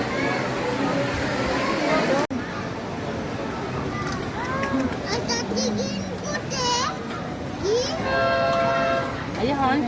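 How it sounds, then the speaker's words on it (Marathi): A train horn sounds in steady sustained blasts near the end, over a busy crowd with children chattering and voices all around. "हॉर्न वाजलेला आहे"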